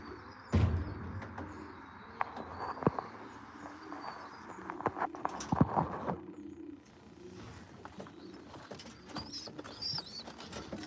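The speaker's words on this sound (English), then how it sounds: "Strong back on these pigeons." Pigeons in a loft make soft, low cooing and shuffling sounds alongside scattered wing flaps and pecking taps, all fairly quiet and close, with steady background rustle.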